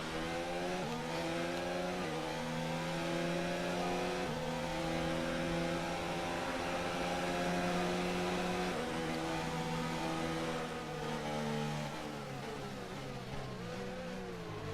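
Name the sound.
F1 race cars passing on the straight, from F1 2019 video game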